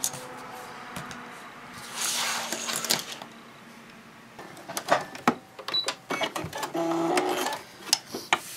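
Sewing machine stitching a seam on a diaper changing bag, running in bursts of rapid mechanical clatter with pauses and small handling knocks between, close by and without talk.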